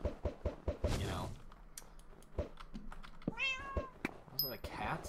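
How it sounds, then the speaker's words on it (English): A cat in Minecraft meows twice, a drawn-out call near the start and a higher rising meow later, amid sharp clicks and taps like keyboard keys and a voice speaking briefly. "Was that a cat?"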